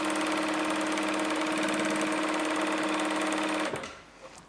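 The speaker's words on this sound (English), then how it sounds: "start stitching, finish till below of the pocket bag" An industrial sewing machine stitches a fabric pocket bag with a steady, loud mechanical whir for several seconds, then stops abruptly, leaving a faint thump at the end.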